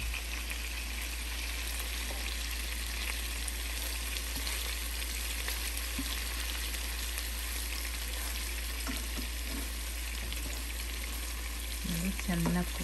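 Honey garlic chicken drumsticks frying in an open pan, a dense, steady sizzle running throughout with occasional faint stirring knocks near the end.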